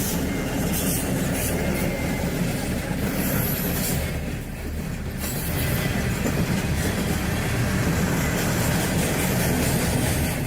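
A heavy freight train carrying tanks rumbles past close by, with continuous loud wheel and rail noise, rattling cars and a steady roar throughout, no talking.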